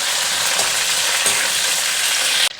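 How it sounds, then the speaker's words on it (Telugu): Green chillies and garlic cloves fry in a pan with a steady, close hiss and crackle of hot oil, occasional stirring scrapes, ending abruptly. "పచ్చిమిరపకాయలు, చాలానే పడతాయండి పచ్చిమిరపకాయలు, వెల్లుల్లి రెబ్బలు ఒక 5 మినిట్స్ అలా ఫ్రై చేయాలండి."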